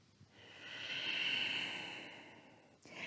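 One long, slow breath during yoga practice, a soft airy hiss that swells and fades over about three seconds, close and quiet with no talking.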